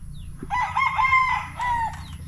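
A fighting rooster at a farm in Carmen, Agusan del Norte crows once close by, a loud drawn-out call broken into several rising and falling segments over a quiet background.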